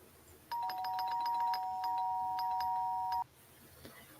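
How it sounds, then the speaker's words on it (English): An electronic doorbell rings in one sustained, buzzing tone for about three seconds with steady, rapid repeats, then stops abruptly in a quiet room. "The impatient doorbell"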